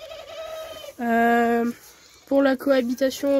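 Turtle doves in an aviary coo in short harmonic phrases, alternating with and partly overlapping a nearby voice speaking French.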